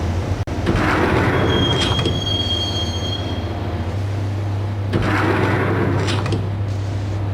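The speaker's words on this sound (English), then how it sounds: "the train doors had already shut behind me, and I was in for the ride" Subway train in the Max Payne video game rolling along the tracks, a steady loud rumble with a long high wheel squeal early on and swelling clatter, no talk.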